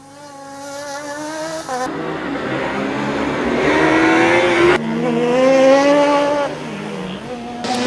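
A Formula Student race car at an endurance event screams past at speed, its engine pitch climbing and dropping through gear changes, loud and close, with a commentator talking over it.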